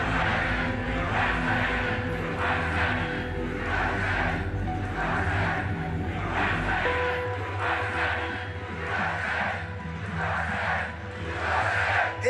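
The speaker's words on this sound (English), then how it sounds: "This is a big crowd." Large political rally crowd produces a loud, sustained roar with rhythmic swells of chanting and cheering that rise and fall throughout.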